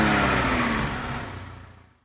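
An Opel Speedster Turbo's engine runs with a steady, loud mid-pitched drone that gradually fades away over about two seconds, with no talking.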